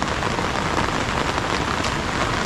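Heavy rain pours down steadily over a farm area, a loud, dense, continuous hiss of drops with no voices.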